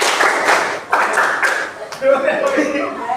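Classroom ice-breaker clapping in a quick rhythmic pattern from a group of students, several sharp bursts of claps mixed with voices and chatter, fairly close and loud.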